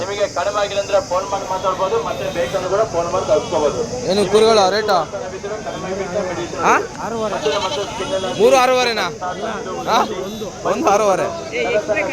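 Sheep and lambs bleat repeatedly in wavering cries, close by, with people talking throughout, at a sheep and goat market.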